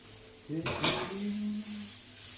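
Mushrooms cooking in a pan, with a short metallic clatter of a utensil against the pan followed by a soft, steady sizzle close by, no talking.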